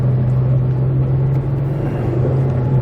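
A Ford Mustang GT S197 with a manual gearbox pulls along in second gear, its engine giving a loud, steady, deep rumble from inside the cabin with no talking over it.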